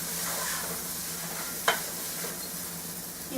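Crumbled urad usali sautéed on medium heat in a pan, a soft continuous sizzle broken by one sharp clink of a spoon on the pan, no talking.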